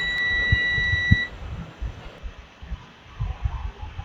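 A multimeter in continuity mode gives a steady, thin electronic beep for just over a second while probing the legs of an IC, then quiet handling noise and low rumble follow.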